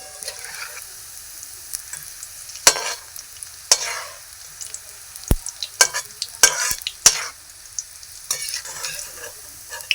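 Oil frying with onions for chicken biryani, a crackling sizzle broken by repeated sharp spatula clicks and scrapes against the pan, irregular and close, growing busier toward the middle.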